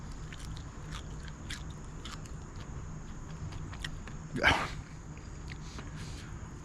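Crunchy grilled chicken skin is bitten once, giving a single short crisp crunch mid-clip over quiet outdoor grill ambience.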